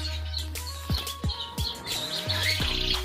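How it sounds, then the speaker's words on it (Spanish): Several caged canaries sing together in a home aviary, bright chirps and trills overlapping in quick bursts over a steady low hum, with one bird's song rising louder toward the end. "Aquí estos canarios cantando."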